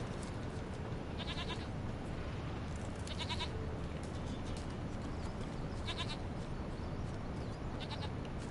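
A goat bleats repeatedly in the game The Witcher 3, several short wavering cries spaced a second or two apart over a loud, constant rushing background, with no talking.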